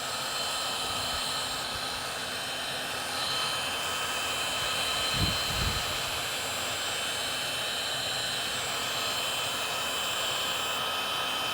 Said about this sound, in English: I like to take my heat gun. I like to just heat the entire thing.